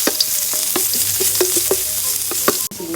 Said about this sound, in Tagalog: Is magigisa tayo ng sibuyas bawang.